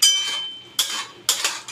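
A metal lid lifted and clattered on a cooking pot while fig and prawn simmer, three sharp bright metallic clinks spaced apart, each ringing briefly before fading, close and clear with no talk.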